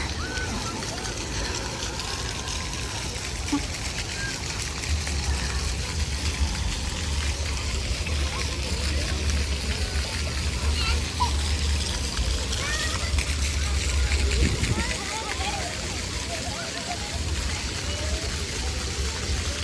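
Children splash and play in a public fountain in Nice on a sunny day, water spraying and trickling steadily throughout, with children's voices and nearby talk mixed in.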